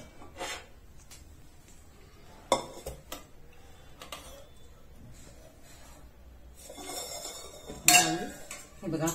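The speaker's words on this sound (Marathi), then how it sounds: "कुकरचं झाकण आपण काढून घेऊयात." A cooled metal pressure cooker holding steamed bottle gourd has its lid pulled off, giving a couple of sharp clanks and a metallic scrape over faint kitchen background.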